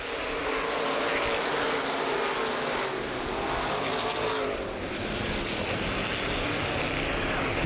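Modified race cars roar away at the start of a 50-lap feature at Baer Field Speedway, a loud, dense, continuous engine drone from the whole pack at close range with no voices.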